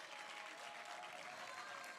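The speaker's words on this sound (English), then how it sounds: "A big clap for this magnificent panel." Steady, dense audience applause for a women's dialogue panel fills the room from start to finish, even and sustained, heard from within the crowd.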